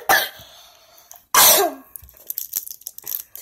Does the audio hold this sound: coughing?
yes